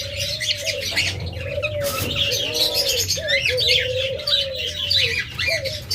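Caged pet lovebirds and budgerigars in a bird shop chirping and tweeting constantly, a dense chatter of high calls over a low steady hum, with a few lower coo-like notes near the microphone.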